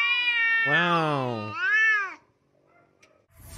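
A cat in a meme meows twice in quick succession, loud, drawn-out, wavering cries, followed by a short quiet gap and a brief exclamation from a person.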